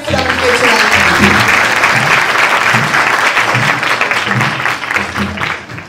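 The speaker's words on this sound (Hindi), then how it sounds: "आप सब खुश हैं तो जोरदार तालियां खुदावंद के चलाएं।" A church congregation at a Christmas celebration claps loudly and steadily, a dense wash of many hands that carries through the whole moment, with a voice faintly heard underneath.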